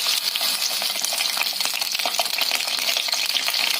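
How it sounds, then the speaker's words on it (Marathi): Washed whole green chilies with stems sizzle and crackle in hot oil in a pan, a loud, continuous close-up frying hiss with occasional sharper pops and stirring noise. "तापल्यानंतर त्यामध्ये ह्या स्वच्छ धुवून घेतलेल्या मिरच्या घालायच्या."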